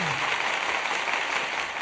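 Canned applause effect played by a host in a studio, a continuous dense clapping texture at fairly loud level, alone and unbroken for under two seconds.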